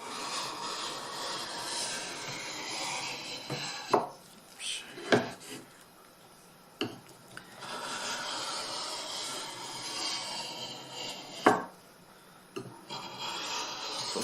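A steel drawknife edge rubbed against a sharpening stone, giving a steady raspy scraping with a few sharper clicks and scrapes in between, close up.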